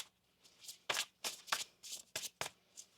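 Tarot cards riffled and shuffled in a series of quick, crisp bursts, close by, with short pauses between them.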